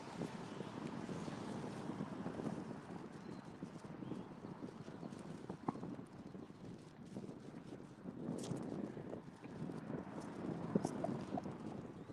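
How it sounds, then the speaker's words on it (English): Steady wind rumbles and buffets the microphone throughout, a constant broadband roar with small gusts and no clear talking. "it's a little bit windy out here"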